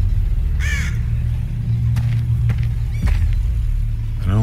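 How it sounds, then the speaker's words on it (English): Crows caw in the video game The Walking Dead: Michonne, several harsh calls spaced irregularly over a steady low rumble of ambience, one near and others fainter. "Just those fucking crows."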